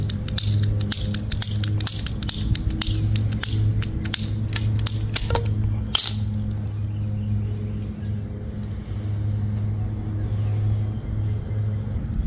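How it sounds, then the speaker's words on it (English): A damaged garden hose is cut with a tool, heard as a quick series of sharp clicks and snips during the first half, ending in one louder snap, over a steady low hum of background machinery. "I'm going to make a cut right here, right after this last piece of damage"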